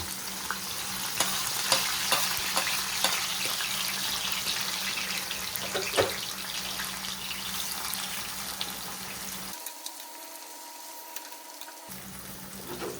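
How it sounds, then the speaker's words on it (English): Seasonings sauté in hot oil in a pan for a Jamaican salt mackerel cook-up, giving a steady soft sizzle with scattered crackles and occasional stirring clicks, with no talking. "Let this saute before I add in the salt mackerel."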